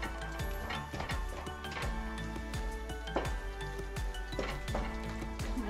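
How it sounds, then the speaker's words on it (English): Marshmallow fudge with melted chocolate chips being stirred in a pot with a spatula: quick repeated clinks and scrapes in an uneven rhythm, close and fairly quiet, with no talk. "And then you wanna stir it up, more stirring."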